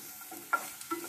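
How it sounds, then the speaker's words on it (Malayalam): Curry leaves are stirred in a hot pan during a clam dry fry, giving a soft, close crackle with a couple of quick scraping knocks from the spoon over about a second. "അടുത്തത് നമ്മൾ കറിവേപ്പില ഇട്ട് ഇളക്കിക്കൊണ്ടിരിക്കുക."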